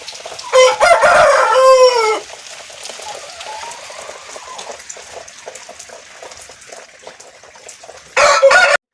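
A pure Idikala Patta fighting rooster crows loudly and close at hand in one long, strained call, followed by quiet farmyard ambience and then the start of a second crow at the end.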